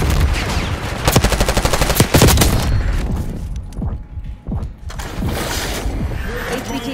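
Rapid automatic gunfire in Call of Duty 6, a loud, dense rattling burst of shots at the start, then scattered single reports and booms over a rumbling battle ambience.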